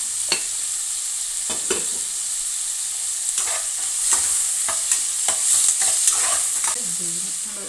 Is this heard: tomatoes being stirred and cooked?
yes